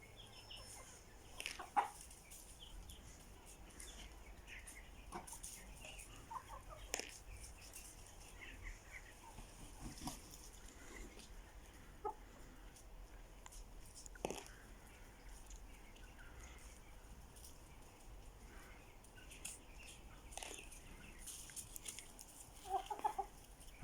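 Chickens cluck softly and intermittently at a distance, scattered short calls over a quiet outdoor background.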